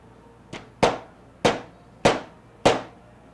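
Hammer blows driving a bearing onto its inner race in a workshop, five sharp metallic strikes at a steady, roughly half-second rhythm, close and loud against a quiet background.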